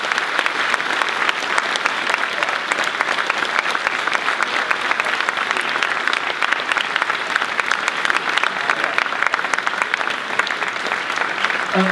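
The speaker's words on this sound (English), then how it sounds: "a round of applause for thank you for spending your time today" A school audience at Saint Viator gives sustained applause for a guest speaker, a loud, continuous field of many hands clapping that holds at an even level for the whole stretch.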